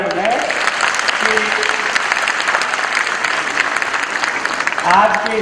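An audience at a children's performance event in Jaipur applauds, a steady dense wash of clapping filling the whole stretch, with a voice speaking over it near the start and end.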